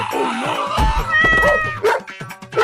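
A cartoon dog barks a few loud, sharp yips and bow-wows, mixed with whimpering, catlike cries in a comic chase scene.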